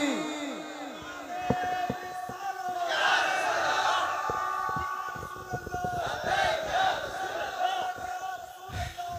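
A crowd at a religious gathering answers a Naara-e-Takbeer call with a loud, sustained collective shout of a religious slogan, several voices rising together in a swell that repeats after a short gap.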